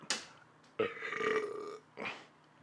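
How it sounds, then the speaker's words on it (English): Three close, loud burps in quick succession after drinking a can of seltzer, the middle one long and drawn out, the others short. "I'll try and burp."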